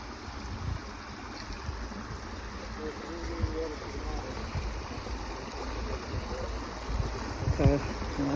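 A shallow creek on the Appalachian Trail in Georgia flows and babbles steadily at a hiking crossing, a continuous wash of water close by with faint rustling and no talk.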